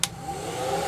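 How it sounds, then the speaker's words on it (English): A hair dryer blows steadily up close to heat the vinyl or rubber neck of a 1:6 scale figure for head removal, starting with a short sharp click and then a continuous whirring hum. "Grab our trusty hair dryer."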